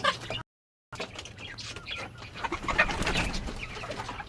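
Chickens on a small hobby farm: a lively flock clucking and cooing continuously, several birds overlapping at close range, with a brief dropout near the start.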